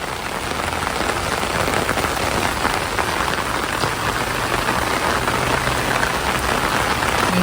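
Heavy storm rain pours steadily on a house and street without a break, a dense, even hiss of drops on surfaces.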